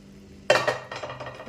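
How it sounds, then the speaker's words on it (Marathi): Sautéed vegetables are tipped into a puree in a pan for a veg Kolhapuri, starting with a sudden clatter of utensil on metal and followed by a run of softer scraping and stirring clinks. "आता आपण ज्या भाज्या परतून घेतल्या होत्या त्या मी इथे टाकून घेते"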